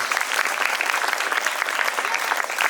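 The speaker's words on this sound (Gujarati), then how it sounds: "તાળીઓથી હાર્દિક સ્વાગત કરીએ છીએ" An audience at a children's poetry event applauds to welcome guests, a dense, even burst of clapping that stays loud and steady from start to finish.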